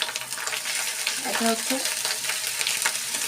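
Cumin paste hits hot oil for a prawn malai curry, producing a continuous loud sizzle and frying hiss, close up, while someone speaks briefly over it.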